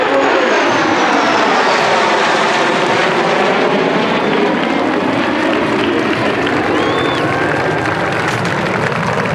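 Two F-16C Falcon jets make a flying salute over an Air Force basic military training graduation ceremony, a loud, continuous roar that swells and shifts as they pass overhead, with no talking.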